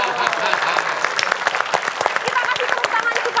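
Studio audience applauding on a comedy game show, loud lively clapping with crisp individual claps throughout, with voices talking over it.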